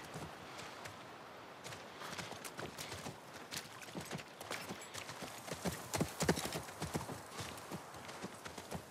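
Horse hooves clip-clop steadily in a video game on PS5, walking near a ranch, a continuous rhythmic patter of footfalls that grows louder toward the end, with an occasional faint whinny.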